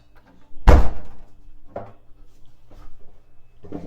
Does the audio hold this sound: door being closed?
yes